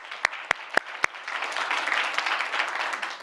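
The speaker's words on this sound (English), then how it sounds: "Give him a round of applause." Four sharp claps ring out, then a dense, steady wash of audience applause continues at moderate loudness until the end.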